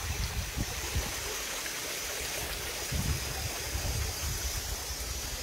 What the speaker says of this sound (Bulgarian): Ето го направено като водопадче.